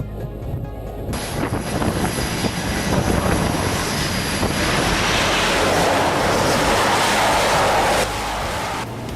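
A loud, sustained jet roar as a fighter jet lands on an aircraft carrier at sea, a broad rushing blast holding steady for several seconds like an aircraft passing close overhead.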